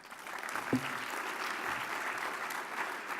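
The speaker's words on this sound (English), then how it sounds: "Please help me give another warm round of applause to Secretary Annis" Moderate audience applause at a transportation summit's opening session, a steady round of clapping from a seated crowd honoring Secretary Annis, fairly distant and even, with one sharper clap near the start.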